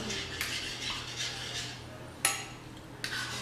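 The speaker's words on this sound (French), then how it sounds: "Je prends une cuillère propre, elle l'est." A clean spoon clinks against dishes and a pot in a home kitchen after a sauce is finished, a few sharp metallic taps spaced apart over a faint background hum.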